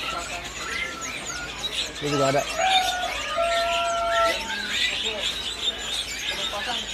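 Murai air songbirds chirp and call at a bird-market kiosk in Pasar Pramuka, bright tonal notes rising over market chatter while people talk close by.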